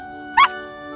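A cartoon puppy in a children's animation about rescue vehicles gives a single short, high whimper over a steady musical drone.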